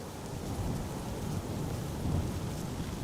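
Steady rain patters down during a stormy day at Amsterdam Schiphol Airport, a dense, continuous wash of drops with low rumbling underneath, swelling slightly partway through, with no voices.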